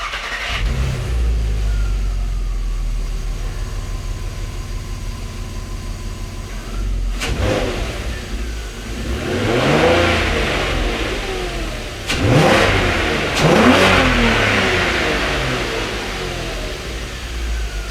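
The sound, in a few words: car engine revving after drain plug thread repair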